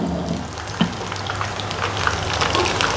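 Lemongrass fried chicken sizzles in hot oil, a constant crackling frying sound with scattered pops and spatters, close and moderately loud.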